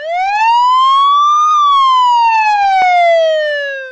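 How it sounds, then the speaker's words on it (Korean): A loud police siren wails alone, its pitch sweeping up then gliding back down in one long continuous cycle, close and clear. "이때 바깥에서는 요란한 사이렌 소리가 들기 시작한다"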